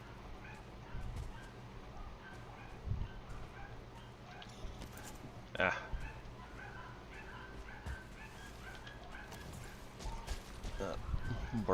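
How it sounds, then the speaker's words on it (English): Several dogs bark and yip in a video game, sharp repeated barks and whimpers scattered through the scene, fairly close, with a brief spoken exclamation among them. "Barky dogs."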